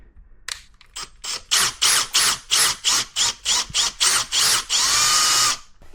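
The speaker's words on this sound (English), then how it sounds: "So I will drill my hole where I did the marking." A power drill bores a hole into the metal front lip bracket of a Mazda MX5 ND1. It runs in about a dozen short, loud, regular bursts with brief pauses between them, then ends in one longer continuous whir.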